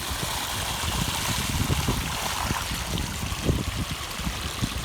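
A pump hose gushes water while emptying a pit, giving a strong, continuous rushing and splashing flow with uneven gurgling surges, loud and close, with no talking.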